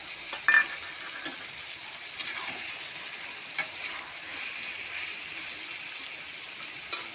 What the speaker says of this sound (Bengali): বাটা মশলাটা দিয়ে দিলাম